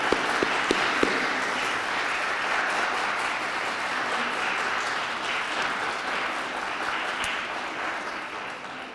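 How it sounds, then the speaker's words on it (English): An evening concert audience applauds chamber musicians, a sustained, even wash of clapping with a few sharper claps early on, steady and moderately loud throughout. "can we give all of our musicians an applause this evening?"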